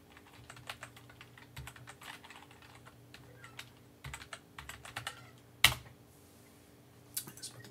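Password keys tapped on a computer keyboard while remoting into a client Mac machine, a quiet irregular run of light clicks with short pauses, a couple of sharper key hits standing out, and no speech.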